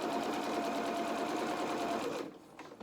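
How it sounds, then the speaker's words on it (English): A domestic sewing machine runs a few stitches forward and a few back on fabric for a small opera coat, making a close, steady rapid whirring that stops abruptly near the end. "I'm going to do a couple of stitches forward, a couple of stitches back"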